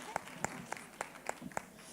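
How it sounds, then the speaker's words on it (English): An audience at a Women's Day event claps faintly, about six sharp, evenly spaced hand claps over two seconds against a quiet background. "Let's give her a round of applause, ladies."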